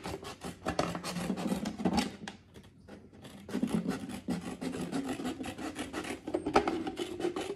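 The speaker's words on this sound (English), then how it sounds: "I'm going to start cutting along the line." Scissors snip steadily along a drawn line in paper during a pre-kindergarten bubble-making craft, a close, continuous rasping cut with a short pause midway and no talk.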